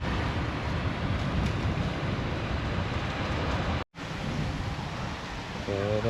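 Strong wind buffets a beach in Thailand, a loud continuous roaring rush over the microphone with surf mixed in, broken by one brief dropout.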